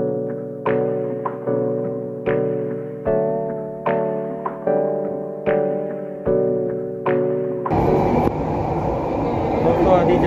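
A metro train rolls along with a steady low rumble and regular rhythmic clacks, then a louder broadband roar swells near the end.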